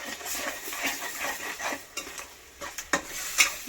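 Beaten eggs for egg bhurji are stirred in a hot pan, a soft continuous sizzle broken by several sharp clinks of a utensil against the metal toward the end.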